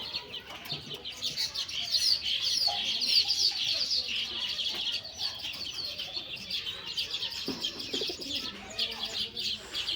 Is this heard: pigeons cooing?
yes